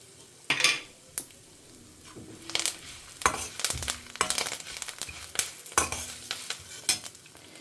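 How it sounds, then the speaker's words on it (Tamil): Small onions, garlic cloves and tomatoes fry with spices in a pan for sambar, with irregular stirring scrapes and clatters over a soft sizzle, close and fairly loud. "இப்போ வந்து வெங்காயம், சின்ன வெங்காயம் ஒரு 10-15, அதே போல் 7-8 பல்லு பூண்டு, 2 மீடியம் சைஸ் தக்காளி."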